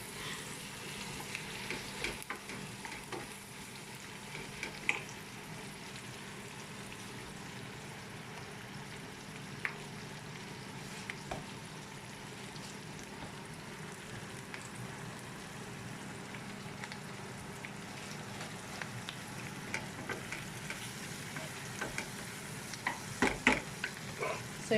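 Chard stems sizzle and fry in a pan, with steady hissing throughout and occasional stirring scrapes, close and even, with no talk over it.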